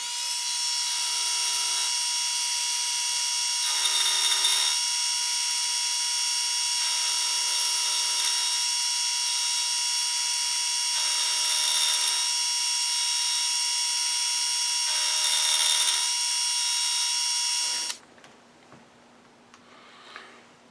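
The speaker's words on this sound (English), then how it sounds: "Now I've just got to mill some flats each side here" A milling machine whines steadily at high pitch, with periodic bursts of cutting noise as the tool mills flats into metal, then the motor winds down near the end.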